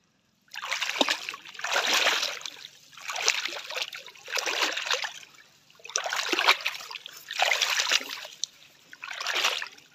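Water splashes in repeated, evenly spaced surges as someone wades through a flooded rockmelon farm, each slosh rising and falling about once a second, close and fairly loud with no talk.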